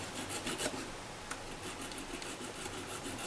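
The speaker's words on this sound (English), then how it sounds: "sanding stick on the wheel" A small sanding stick rubs against the metal wheel of a Kato TGV model train car, making quiet, close, repeated raspy scrapes in short strokes.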